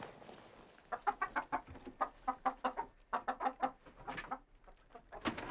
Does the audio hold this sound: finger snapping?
no